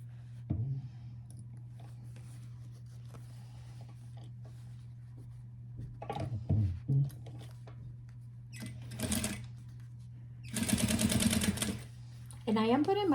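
A sewing machine stitching a small unlined fabric pouch runs in short, separate bursts, the longest near the end, over a steady low hum, with someone talking between the runs.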